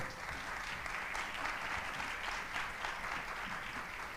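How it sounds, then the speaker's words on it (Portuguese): An audience applauds for Rubens Fernandes at a talk on the surrealist Fernando Lemos, a dense, sustained wash of many hands clapping at a steady level, heard from within the room. "uma salva de palmas para o Rubens Fernandes"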